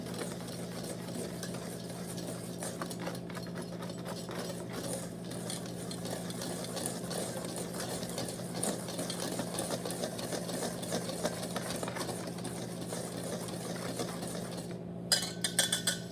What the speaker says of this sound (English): you're going to give it a good mix